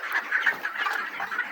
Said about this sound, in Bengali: তো এখন আমি মুরগি বাইরে দেবো